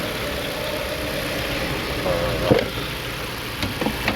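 A Mazda6 engine with a high-rpm fault and codes P0507 and P0171 runs at a steady idle, close and loud, with a slight rise and a few faint clicks as the throttle is pulled.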